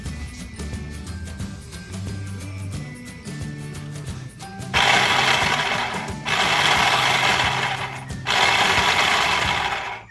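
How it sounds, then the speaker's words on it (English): A chopper or blender chops garlic and parsley, its motor roaring in three loud bursts in the second half after softer clattering kitchen sounds, close and with no talk. "Use a chopper or a blender to chop some garlic and parsley."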